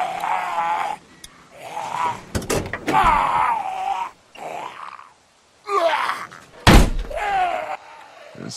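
In The Walking Dead video game, a door slams with a heavy thunk, loud and close, set between groaning and grunting game voices.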